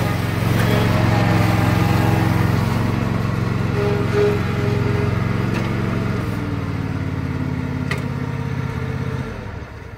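Ezmark Lazer Z zero-turn riding mower engine running steadily at close range, a continuous loud drone whose pitch shifts partway through before it cuts off near the end.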